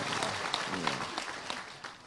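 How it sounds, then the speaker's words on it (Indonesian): Brief applause from a gathered audience at an Indonesian religious sermon, a steady patter of many hands at moderate distance lasting about two seconds. "tepuk tangan kagem Gusipang niki."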